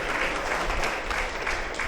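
Audience applause at an inauguration ceremony in Neyveli, welcoming a guest onto the stage: steady, dense clapping from a crowd, continuous and moderately loud through the whole short stretch.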